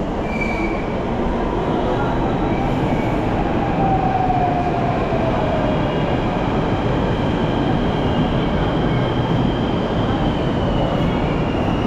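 A Delhi Metro train runs at steady speed, giving a loud continuous rumble with faint wheel squeals and light rhythmic clatter throughout, with no voices.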